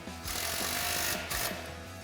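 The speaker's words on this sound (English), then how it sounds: "So now I'm going to take my 3/8 gun with an 18 millimeter," A 3/8-inch air impact gun with an 18 mm socket tightens the front nut of a Jeep Wrangler JK steering kit, giving a loud, close, continuous hammering rattle for nearly two seconds with one brief dip midway.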